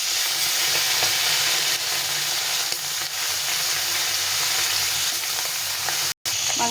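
Tengra fish fry in hot oil in a wok, producing a loud, continuous close-up sizzle and crackle that holds steady throughout, broken by one brief silent gap near the end, with no voices.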